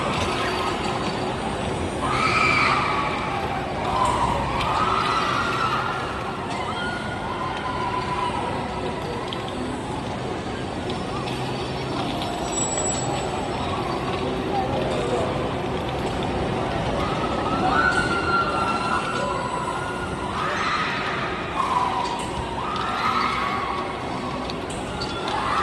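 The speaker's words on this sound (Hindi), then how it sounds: "दोनों राइड्स देखें और इनकी आवाज़ें भी ज़रा सुनिएगा" Amusement park rides run inside a mall's indoor park, a busy continuous mechanical rumble with whooshing swells and crowd noise mixed in, moderately loud throughout.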